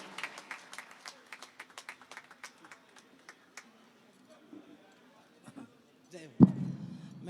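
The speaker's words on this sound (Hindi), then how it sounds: "जरा जोरदार तालियों की गड़गड़ाहट करिए" Scattered, thinning claps from a small outdoor audience at a Hindi poetry gathering on a middle school ground, a few dozen sharp individual hand claps fading out, followed by a loud thump and some quiet room noise.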